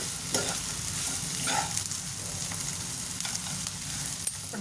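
Chopped ivy gourd fries in a pan with a steady, dense sizzle and occasional stirring scrapes. It is close and continuous, with no voices.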